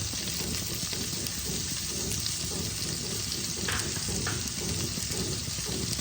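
Chopped green chili, tomato and capsicum frying in a pan for uttapam, a steady close sizzle with stirring scrapes and a couple of brief clinks, no voices.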